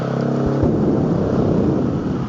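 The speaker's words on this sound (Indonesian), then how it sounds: "ada motor berisik" A noisy motorcycle passes close by, a loud rough engine drone that swells in and holds steady for a couple of seconds.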